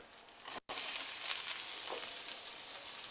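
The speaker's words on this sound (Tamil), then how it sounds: "அதுக்கப்புறமா வெங்காயத்தை போட்டு நல்லா வதக்குங்க." Steady, loud sizzling of onions sautéing in a hot pan for a potato fry, continuous with a brief dropout near the start.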